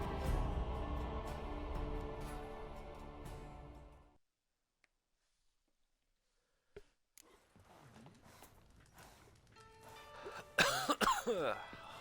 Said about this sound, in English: Always going to start my streams off coughing.